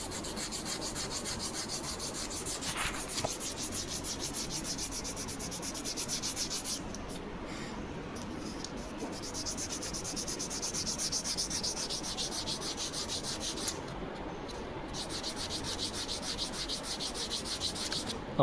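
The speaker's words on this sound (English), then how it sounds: "keep your block at the 30-degree angle and keep the sanding on the same angle till you reach the center line of the part." A balsa wood part is sanded with a sanding block held at a steady angle, producing continuous soft rasping strokes that are close and even, with no voices.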